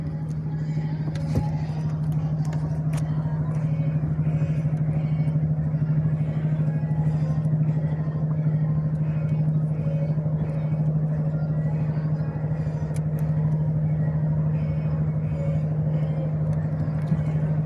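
A steady motorboat engine drone hums throughout, a constant low motor sound close by, with faint water and wind noise on top, at sea off Alanya.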